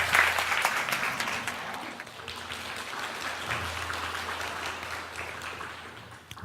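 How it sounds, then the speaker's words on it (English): An audience at a speaking event gives sustained applause, loud at first and then fading gradually over several seconds, with no voice on top. "It's quite a lot of applause for one single word."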